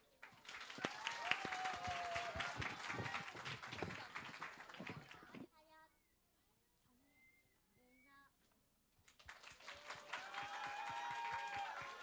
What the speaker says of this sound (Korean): 오늘을 위해 열심히 준비했다고 하니 큰 박수로 맞아주세요.